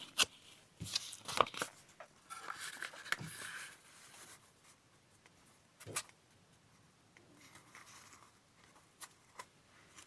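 Torn pieces of paper are shuffled and moved around while assembling a collage cluster, giving soft, close rustling and sliding scrapes in irregular bursts with quiet gaps between.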